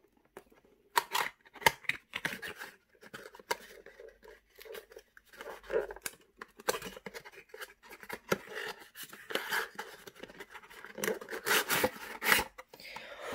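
Packaging of a 2011 Switch On Pose Ride watch being torn open by hand, with repeated sharp crinkling rips and rustling bursts, close and fairly loud, in irregular spurts throughout.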